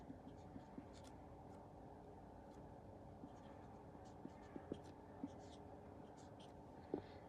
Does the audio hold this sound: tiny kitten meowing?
no